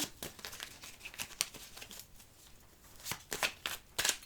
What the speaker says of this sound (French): Je vais la remettre dans le jeu parce que je dois refaire une coupe.